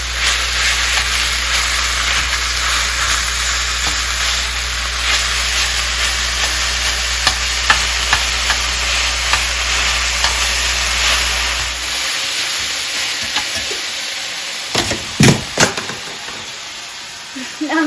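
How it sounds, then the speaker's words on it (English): Ground beef for shepherd's pie cooks in a pan with a loud continuous hiss under a low hum, then clatters and scrapes of stirring near the end. "it's time to add the ground beef into the pan and cook it for 5 minutes"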